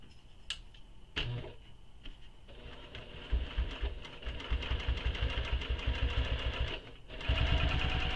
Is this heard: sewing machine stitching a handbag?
yes